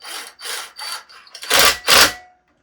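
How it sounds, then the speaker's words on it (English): Impact driver tightening carburetor screws on a Ryobi 2-cycle gas string trimmer: several short whirring bursts, the last two louder with a heavy low hammering rattle, close up and without talk. "And then my impact driver here can do the job. And then you'll just tighten them down."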